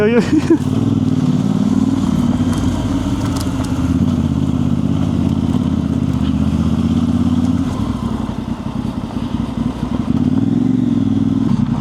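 A motorcycle on a solo ride in Morocco, its engine droning loud and steady close by, with a throttle change and clatter partway through and a voice talking over it.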